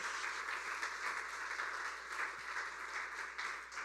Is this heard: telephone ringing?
no